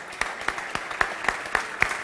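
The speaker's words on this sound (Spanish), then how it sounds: "Por favor, un aplauso para él." Sparse, thin clapping from a small audience at a forex conference talk, scattered individual claps at a steady pace, fairly faint.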